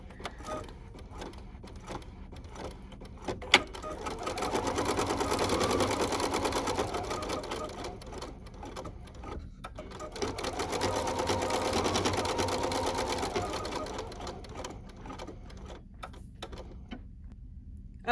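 An embroidery machine stitches steadily with a rapid mechanical clatter and whirring, swelling in two louder passes while sewing final registration marks on glitter fabric. Occasional clicks break the steady run, which is nearby and moderately loud.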